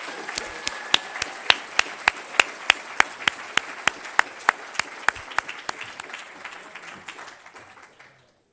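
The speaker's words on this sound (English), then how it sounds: "Everybody, another round of applause, please." Audience clapping at a bridge-building showcase and awards event, a dense round of applause with sharp regular claps standing out near the mic, holding steady for several seconds before fading and stopping abruptly.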